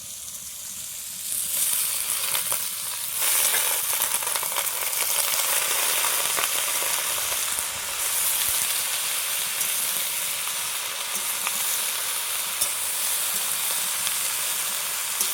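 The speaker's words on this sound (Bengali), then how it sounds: "বন্ধুরা, সবজিগুলো কষানো আমার হয়ে গেছে, এখন পালং শাকটা দিয়ে দিচ্ছি।" Spinach and mixed vegetables with green chillies sizzle steadily in a pan, a continuous bright frying hiss with occasional stirring scrapes, close and fairly loud throughout.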